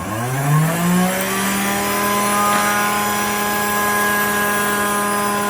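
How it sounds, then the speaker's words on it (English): Knife blades from a Case XX Trapper pocketknife being cleaned on a spinning fiber wheel: a motor spins up with a rising whine, then holds a steady, loud, tonal hum, close and unbroken throughout. "let me go in and clean up these blades on that fiber wheel before I install them"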